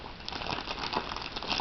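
Plastic wrapping around a retro lockback folding knife crinkles and rustles continuously as it is unpacked, a soft close crackling texture with no voices.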